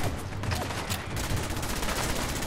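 Gunfire rattles through a foggy battle in Fallout 4. Bursts of shots and a fusillade come in a dense, steady stream, moderately loud, with no talking.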